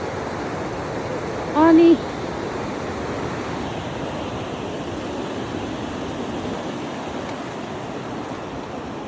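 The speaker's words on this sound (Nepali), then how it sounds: "यहाँ यत्रो नदी सुसाइरहेको छ" A large river rushing near a hot spring in Humla, Nepal, producing a steady, full roaring rush throughout, with a brief spoken word and a short tonal sound near the start.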